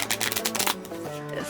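A deck of playing cards is shuffled for poker at a campsite: a quick, close run of crisp riffling bursts that stops abruptly, with a faint tonal hum underneath.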